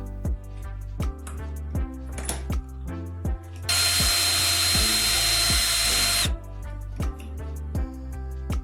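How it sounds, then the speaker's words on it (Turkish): A small power drill bores a hole through a short piece of hot glue stick, with a steady high whine for about three seconds under a regular beat of background music. "Her parçanın ortasına vidaya uyacak bir delik açın."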